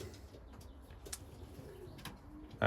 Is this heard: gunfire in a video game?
no